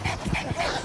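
A dog at a campsite being offered bones makes short, close whimpering and yipping sounds in a quick burst of under a second.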